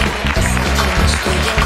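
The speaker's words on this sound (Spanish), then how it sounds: "Fuerte aplauso para ella" A short burst of audience clapping greets Rosalía González, third place in the disability category at the San Silvestre 2015 race awards in Gijón, Asturias, dense and fairly loud for under two seconds.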